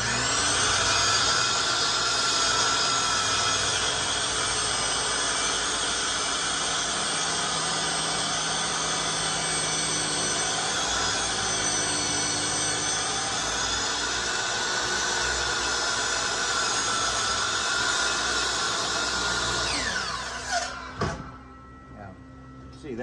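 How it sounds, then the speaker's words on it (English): A saw runs steadily through a log during log processing, a loud continuous high-pitched whine that holds for about twenty seconds before cutting off abruptly, leaving a few faint knocks. "the saw won't cut all the way through, so I have to finish the cut with the"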